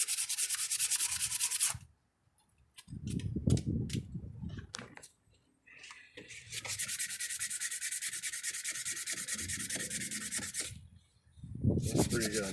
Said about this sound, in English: I might hit that with sandpaper one more time.